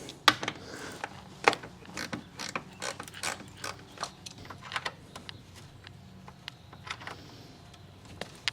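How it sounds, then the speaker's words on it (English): A ratchet clicks in rapid bursts while turning 9mm screws during a tune-up on a 1990 Mercedes 560SEC AMG, with short pauses between strokes and no talk. "Of course, I'm using a ridiculous ratchet."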